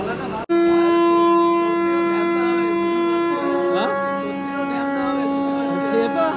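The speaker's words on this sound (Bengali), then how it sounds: "তো এদিকে ওদের ট্রেন ছেড়ে দিল" A Vande Bharat express train pulling out of a station sounds a long, loud, steady horn that shifts pitch partway through as it departs, with voices and station noise faintly underneath.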